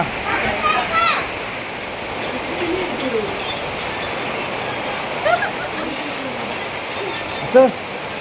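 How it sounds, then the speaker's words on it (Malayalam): Steady heavy rain pours down in a continuous hiss at Akkulam Tourist Village park in Thiruvananthapuram, with a few faint bird calls and brief distant voices. "അപ്പോഴാ മഴ പെരുമഴ"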